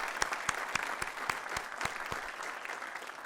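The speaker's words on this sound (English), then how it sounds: "let's give her another round of applause" Conference audience applauding, a steady patter of hand claps with some louder individual claps standing out, moderately distant and fairly faint, fading slightly toward the end.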